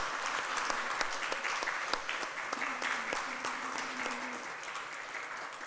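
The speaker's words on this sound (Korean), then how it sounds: "한번 박수로 우리 환영했으면 좋겠습니다" A church congregation at Sunday worship claps to welcome visiting elders and their wives, a steady, moderately soft patter of many hands with a few crisp individual claps standing out, a faint voice underneath partway through.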